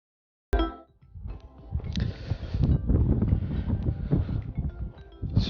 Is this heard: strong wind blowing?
yes